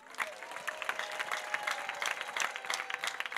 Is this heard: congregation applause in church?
yes